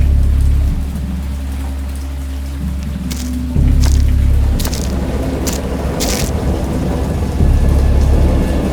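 Heavy thunderstorm with steady rain hissing on a surface and several loud thunder cracks and rumbles breaking through, close and powerful, with no voices.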